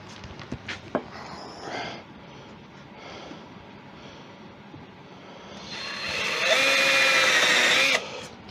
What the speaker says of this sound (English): I'm going to drill a slight hole smack dead center in this